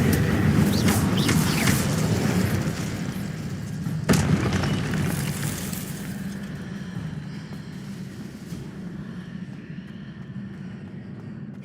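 Spell explosions in the Hogwarts Legacy video game: a dull rumbling roar with a sharp boom near the middle, fading into a softer background rumble.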